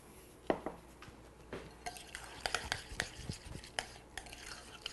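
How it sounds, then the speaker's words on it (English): A spoon stirring a mayonnaise salad mixture in a bowl, soft wet scraping punctuated by light clinks of utensil against the dish, quiet and close with irregular taps and no talking. "Give it a stir"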